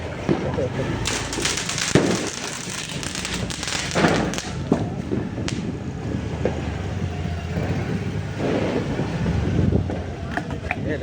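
Muffled booms of large firecrackers going off for Diwali at intervals over a constant noisy outdoor background with wind rumble.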